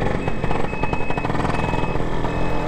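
A Lambretta scooter's engine pulls steadily and loudly up close as the rider eases the throttle through a roundabout, a continuous buzzing drone with no pauses.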